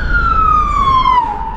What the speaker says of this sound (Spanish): ahí viene una ambulancia.